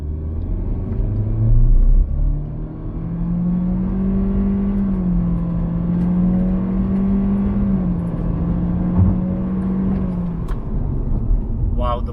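A 2022 Honda Civic RS with a CVT accelerates from a standstill in normal drive mode, its engine droning at a steady, slowly rising pitch after an initial surge, loud and continuous with road rumble.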